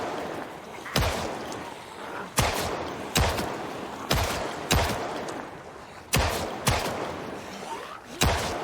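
Pistol gunshots in the video game Project Zomboid, seven or eight sharp, loud single shots fired at irregular intervals over a constant background rumble, with no talking.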